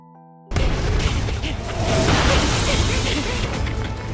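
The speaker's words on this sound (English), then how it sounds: "But the explosion was too big." A massive explosion unleashed by a meteor skill in an anime bursts in suddenly after a brief hush, then roars as a loud, dense, sustained blast that fills the rest of the clip.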